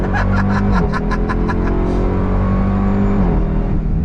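A 2024 Dodge Durango SRT Hellcat engine revs hard with quick gear shifts, pitch climbing and dropping between changes, loud and close, with a rapid rattling burst near the start.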